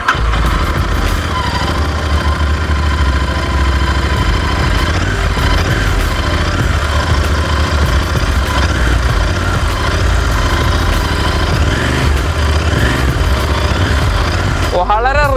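A Royal Enfield Interceptor 650 motorcycle engine runs close by, a loud steady idle with a throbbing rumble that holds for the whole stretch, with a brief rising whine right at the end.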